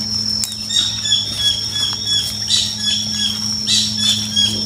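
Jagabaya bird calls in a forest, a series of bright chirping squawks repeating every second or so over a steady hum of insects and distant background noise.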